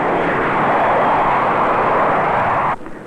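A four-engine United Douglas DC-8-12 jet airliner roars at full takeoff power, a loud, steady broadband rumble and hiss that cuts off abruptly near the end.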